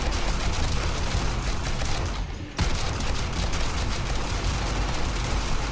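Explosive bullets fire in a dense, unbroken fusillade during an insane-mode video game battle against 64 enemies. The loud, rapid gunfire pauses for a moment midway, then resumes just as heavily.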